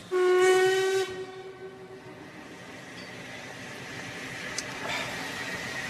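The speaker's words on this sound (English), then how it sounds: "Was that the London train?" A London steam train departs, its whistle giving a loud sustained blast followed by the rumble and chuff of the train pulling away.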